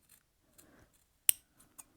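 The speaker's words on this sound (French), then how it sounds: "Je prends une paire de ciseaux et je termine" Scissors snip through jacket fabric to open a welt pocket, a few soft, quiet cuts followed by one sharp, crisp metallic snip and a lighter click, close and alone.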